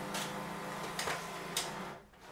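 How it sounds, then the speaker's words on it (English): A Canon MAXIFY MB2720 printer feeding paper sheets one by one for scanning gives a steady mechanical hum with three short clicking pulls, recorded close in a quiet room. "you see the printer will take one by one each sheet of paper without you having to touch anything"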